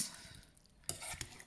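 Cabbage curry gets tossed in a pot: soft scraping and stirring with a couple of sharper clinks of utensil against metal, quiet and close, with a faint sizzle beneath.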